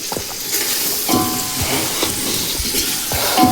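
Onion and chili fry in oil in a large batch, a loud close sizzle and hiss with scraping stir strokes coming in a loose rhythm, no voices.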